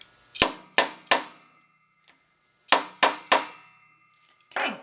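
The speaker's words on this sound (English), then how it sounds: "use my little grommet setting tool and my hammer. And I'm going to smack it pretty hard" Two sets of three sharp metallic hammer strikes on a grommet setting tool ring out close up, each with a short ringing decay, followed by a scraping shuffle.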